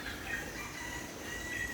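Hens cluck softly and steadily against a constant outdoor background hum, with no clear individual calls standing out.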